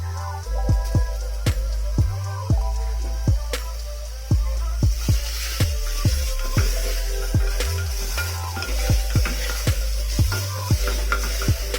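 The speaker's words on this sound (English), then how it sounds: "Now we'll add 1 finely chopped tomato into it." Finely chopped tomato sizzles in a pot for a one-pot palak chole biryani, with repeated sharp scrapes and clicks of a spoon stirring against the metal at an uneven rhythm over a steady frying hiss, close and fairly loud, with no talking.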